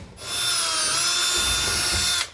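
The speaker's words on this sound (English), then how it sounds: "make sure that you drill all the way up" A power drill bores through a truck bed liner while a fifth wheel trailer hitch underbed kit is installed, one continuous high whining burst of about two seconds that starts and stops abruptly, close and loud.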